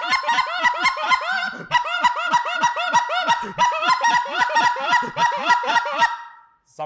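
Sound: goose call cadence imitating lesser geese

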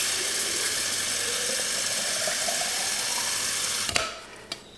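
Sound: filling a mason jar with water for chick waterer

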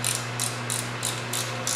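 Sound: wrench torquing down rocker bolts on a Ford 302 engine

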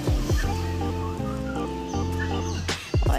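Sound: bantam chicken clucking

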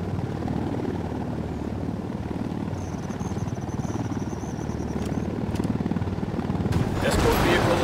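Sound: helicopter approaching in the video game Ghost Recon Wildlands

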